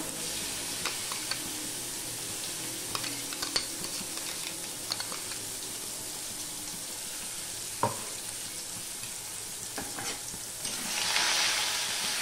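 Ghatkol leaf stalks fry in oil in a kadai, giving a continuous close sizzle with occasional clicks and stirring knocks that swells louder near the end, with no one talking.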